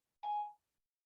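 A single short electronic tone from a mobile phone alert, a clean beep-like chime lasting well under half a second, alone against silence.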